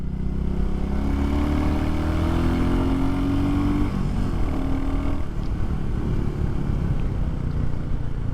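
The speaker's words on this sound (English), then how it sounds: "Listening to the rev matches there." A Royal Enfield Classic 350 motorcycle is ridden at a steady, close, loud engine drone. The pitch blips and shifts several times as the rider rev matches through gear changes, with nothing else over it.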